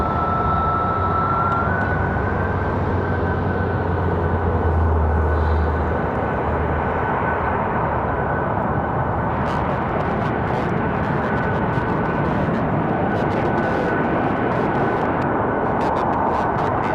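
An Aeromexico airliner at Raleigh-Durham airport gives off a steady, broad jet roar that holds loud and even throughout, with a faint high whine running above it.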